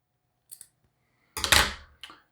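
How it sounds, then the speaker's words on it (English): Scissors snipping a fabric strip for a woven rag rug: one small quick click, then a louder crisp cut and a faint final snip, close up in a quiet room. "And then give that a little snip."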